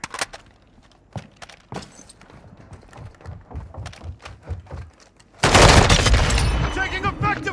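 Gunfire in Call of Duty Modern Warfare 2 team deathmatch: scattered sharp shots and footsteps over in-game callouts, then a sudden loud sustained burst of rapid automatic fire near the end.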